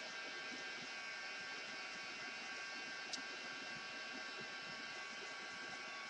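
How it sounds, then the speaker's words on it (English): A heat gun blows continuously while drying glue on a 3D photo display craft, a quiet, even whirring hiss of fan and air that runs unchanged throughout with no voices. "Sorry, my heat gun's loud."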